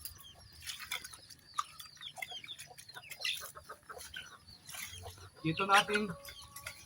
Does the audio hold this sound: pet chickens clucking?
yes